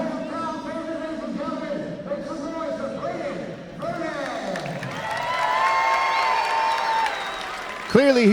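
A crowd at a jiu-jitsu event applauds and cheers, rising in volume with whoops and shouts while commentators talk over it.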